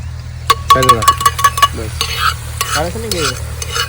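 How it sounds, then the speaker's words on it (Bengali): Onions frying in a pan with steady sizzling while a utensil stirs and clinks against the metal in a quick run of taps, close and clear, with a voice speaking briefly. "পেঁয়াজ ভাজা হয়ে গেল।"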